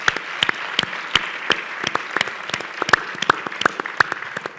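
Audience at a private-sector panel event on exchanges gives a warm round of applause, dense steady clapping throughout with no voices over it.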